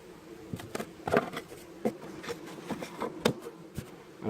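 Honey bees buzzing around a hive being split for transfer to a top bar hive, a faint steady hum with individual bees zipping close by and occasional soft taps and knocks on wood.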